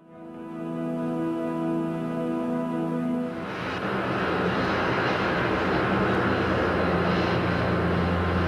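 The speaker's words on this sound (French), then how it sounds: "המטוסים הראשונים בישראל." Archival recording of airplanes landing in Israel: a loud, steady aircraft engine drone with a tonal hum that swells into a broad roaring rush partway through, continuous and close, with no speech.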